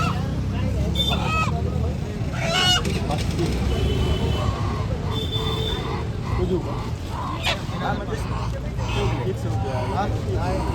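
Busy poultry market at Chakan selling desi and crossbred chickens, with fowl clucking and honking cries rising over a dense babble of crowd chatter and people talking nearby throughout.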